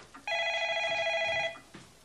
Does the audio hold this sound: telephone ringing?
yes